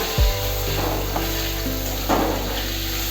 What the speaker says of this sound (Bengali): এবার আমি আলুগুলো এর মধ্যে দিয়ে দিচ্ছি ফুটে রাখা আলু